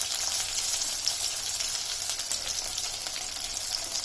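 Onion, cumin and chana dal frying in a pan for a carrot palya, a steady close sizzle holding evenly for the whole stretch with no voices.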